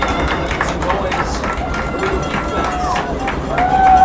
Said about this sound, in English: Turner crowd getting into it. Got a big crowd here, both sides, Clinton and Turner.